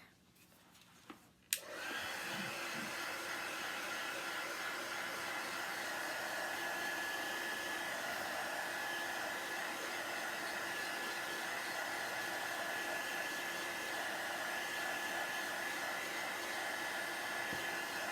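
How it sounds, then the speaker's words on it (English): An electric hair dryer switches on with a click and blows steadily and loudly, drying a freshly cleaned wooden carrot carving with decorative detail, running unbroken for well over fifteen seconds. "I'm going to dry this real quick"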